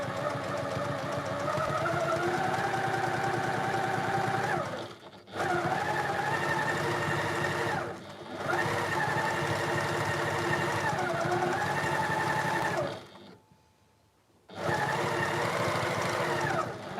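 A sewing machine runs in long steady bursts while stitching the seam of a fabric storage pod, its motor whirring with a rising and falling hum, stopping briefly three times as the needle is left down and the pod turned.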